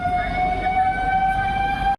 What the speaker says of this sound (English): I guess it's a petrol unit or ambulance